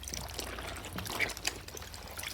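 Water pouring steadily into a basin to soak an old yellow-stained cream shirt, a continuous close splashing trickle heard alone.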